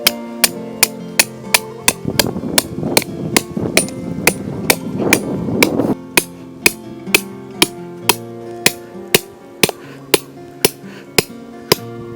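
Steady hammer blows drive stakes into the ground for a Red Kangaroo canvas cabin tent, about two sharp strikes per second, close and loud, with a brief busier stretch of mixed clatter in the middle.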